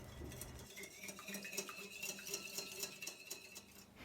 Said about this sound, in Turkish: Öncelikle şöyle bir karıştırıyorum.